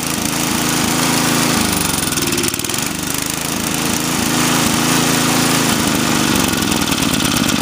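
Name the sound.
Toro 521 snowblower engine running at idle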